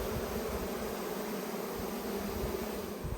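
Honey bees buzzing steadily from an opened hive after being smoked, a dense, continuous insect drone close by with no voices.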